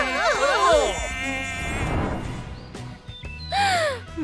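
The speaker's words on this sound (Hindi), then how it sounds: "वो यहाँ मच्छर है।" A mosquito whines in a cold room, its thin wavering buzz mixed with warbling tonal sounds and crow-like caws, fairly loud and close, with no speech.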